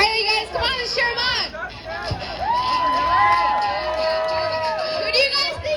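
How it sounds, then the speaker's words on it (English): A crowd at a school homecoming food eating contest cheers and shouts, with high children's and teen voices yelling and whooping loudly over constant excited babble and bursts of shrieks. "come on, let's cheer them on"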